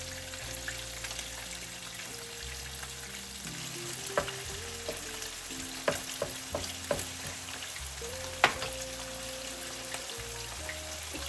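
Dried fish (shutki) fries in a pan with a strong, steady sizzle and occasional sharp ticks and spits, close up and alone, over faint background music tones.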